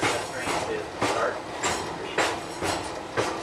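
Test train on the Pittsfield & North Adams rail line, Adams to North Adams, with a steady rolling rumble and regular clickety-clack wheel beats roughly every half second, heard from on board.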